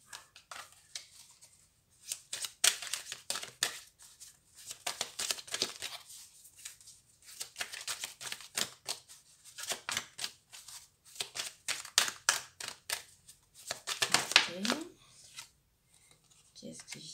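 A deck of oracle cards is handled and drawn from, giving repeated quick papery flicks and snaps in rhythmic bursts with short pauses between them, close and soft.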